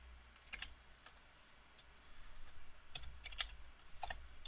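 Keys clack on a computer keyboard as C# code is typed, in sparse, uneven clusters of close, quiet keystrokes against a soft room hush.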